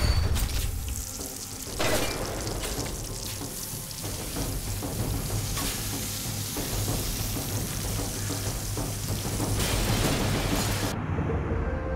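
A planted explosive charge detonates in Splinter Cell: Chaos Theory, a loud sustained roaring blast with rumbling bursts that fills the whole stretch before cutting off.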